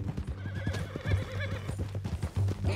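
A horse in the video game Red Dead Redemption 2 whinnies loudly and close, over a steady rhythm of clip-clopping hooves.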